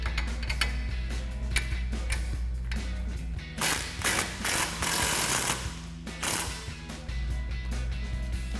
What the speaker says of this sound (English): we're going to remove the shock, doing this lower mount first using our 21mm socket and our 21mm wrench